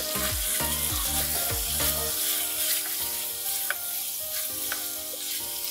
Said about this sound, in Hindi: इसको अच्छे तरीके से भूनना है।